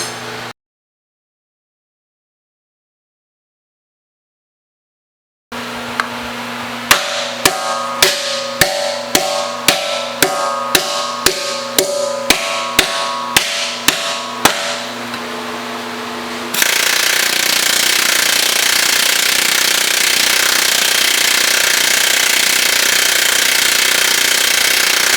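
Planishing hammer striking a steel car body panel during street rod restoration: a run of rapid, evenly spaced metallic taps, close and loud, giving way to a steady roaring machine hiss.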